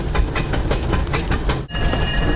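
The Disneyland steam train in Anaheim, California rolls along its rails, loud and close, with rhythmic wheel clatter over a constant rumble.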